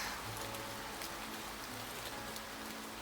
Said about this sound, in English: The rain hadn't let up at all.